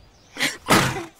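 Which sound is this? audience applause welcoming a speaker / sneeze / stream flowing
sneeze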